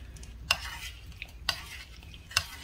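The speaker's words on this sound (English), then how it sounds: "Then I'm just gonna mix everything together." Grilled chicken and mango pepper pot are tossed together in a bowl, with soft stirring and three distinct clinks of a utensil against the dish over a quiet background.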